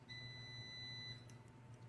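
Air fryer beeping as its cooking cycle finishes, a steady high electronic tone held for about a second over a low kitchen hum, fairly faint.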